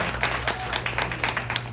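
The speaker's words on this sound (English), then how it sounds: "a big round of applause for Malachi" Audience applause at a Jamaican diaspora tribute event in South Florida, a crowd clapping in a brisk, uneven patter at moderate volume.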